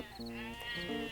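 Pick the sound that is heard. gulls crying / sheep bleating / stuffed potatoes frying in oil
sheep bleating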